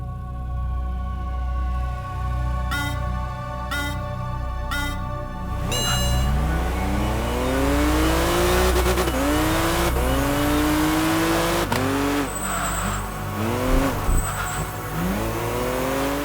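Eerie, somber music from the Enthusia Professional Racing video game, opening on low sustained tones and sparse bell-like hits, then drawn-out sweeping whale-like calls that rise and fall repeatedly, loud and alone.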